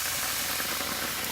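Tilapia fillets sizzling in a hot pan with garlic, red pepper and a splash of wine, a steady loud broadband hiss with crackle throughout, no talking.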